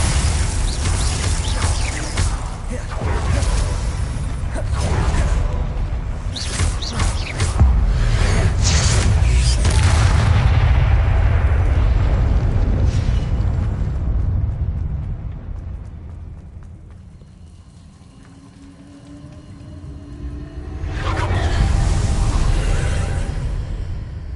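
Explosive Confringo spell blasts in Hogwarts Legacy combat boom and whoosh loudly through the first half amid clashing effects, fade to a quiet lull, then swell again with another blast near the end; no one speaks.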